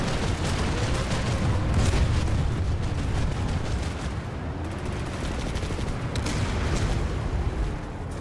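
Constant heavy gunfire from a multiplayer shooter game during a fight to capture a point, a dense loud barrage of shots and blasts running throughout with no gaps.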